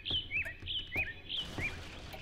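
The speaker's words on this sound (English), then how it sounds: "Birds?" Birds chirping in the horror game Layers of Fear: bright, repeated two-note tweets at a steady, lively rhythm, fairly close and clear over a quiet background.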